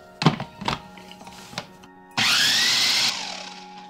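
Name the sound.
blender grinding soaked rice and radish batter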